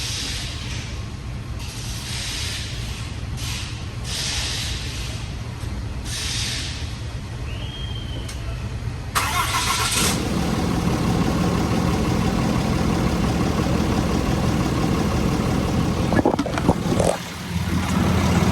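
An engine with a newly fitted Hamilton solid flat tappet cam and a coolant bypass sits through a quiet stretch of clicks, then cranks and catches about halfway through. It settles into a steady, loud, close idle with no talk.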